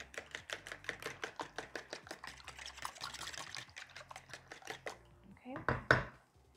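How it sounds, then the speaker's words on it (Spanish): Eight eggs being whisked in a bowl for a pixbae tortilla: a steady run of quick, regular taps and clicks close by, ending with a few louder knocks. "Ok, aquí tengo entonces los 8 huevos, los voy a batir."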